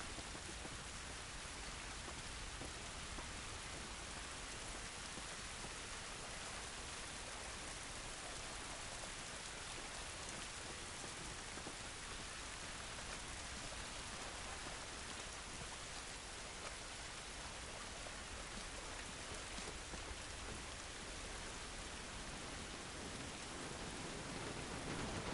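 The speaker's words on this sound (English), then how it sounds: "This rain ain't gonna do us any good." Steady rain falls outdoors in the video game The Last of Us, a dense, even hiss of drops on surfaces that continues unbroken and fairly faint throughout, with no voices.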